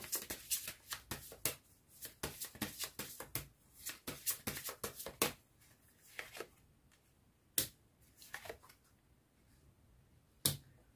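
Tarot cards are shuffled and drawn alone in a quiet room: a fast run of crisp, close card slaps and riffles, then a slower handful of separate flicks and snaps as single cards are pulled.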